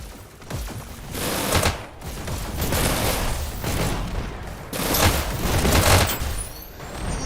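Rapid SMG fire from a VR esports shooter match, continuous dense bursts of shots layered with impacts and booms, loud and close throughout with no talk.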